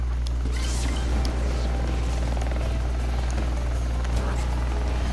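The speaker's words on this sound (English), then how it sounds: "Yes, a new helicopter." Steady droning helicopter rotor and engine hum from the LittleBigPlanet 3 video game, continuous and fairly loud throughout with faint mechanical clatter on top.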